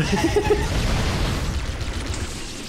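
A grenade explodes in Halo CE, giving a loud low boom that rolls into a rumbling decay over a few seconds of steady game noise, with faint talk underneath.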